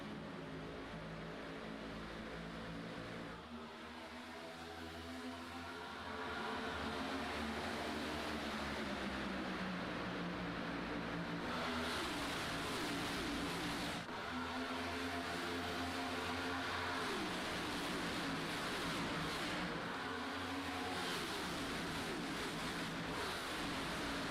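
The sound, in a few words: race cars accelerating at green flag, Daytona racing video game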